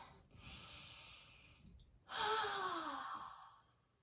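Slow, deep breaths during a simple stretching routine: a long airy inhale, a pause, then a louder, fuller exhale that trails off, close and alone.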